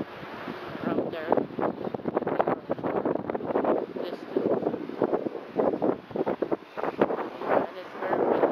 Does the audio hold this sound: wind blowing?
yes